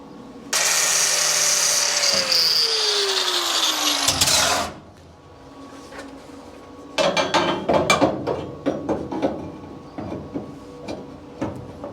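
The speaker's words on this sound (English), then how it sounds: "I'm just grinding a little notch in there for the weld." A grinder cuts a notch into a Chevy COE truck frame for a weld: a loud, harsh, sustained grinding whine that winds down in pitch, followed by scattered metallic clanks and knocks.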